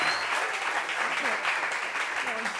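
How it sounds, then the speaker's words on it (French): Continuous clapping from a television talk-show audience greeting a female guest, dense and even from start to finish, with a thin high tone briefly audible early on. "Très belle femme, applaudissez."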